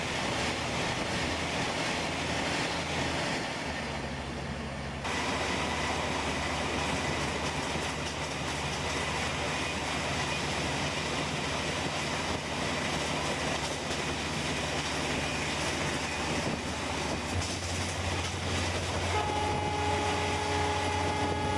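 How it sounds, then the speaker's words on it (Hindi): A WDP4D diesel locomotive of Golden Rock shed hauling the Dibrugarh Rajdhani Express in Indian Train Simulator, a steady loud engine roar and rolling rumble that holds for the whole stretch, rising in tone near the end. "और ये आप देख सकते हैं गोल्डन रॉक का W D P four D आग लगाते हुए भाई जा रहा है"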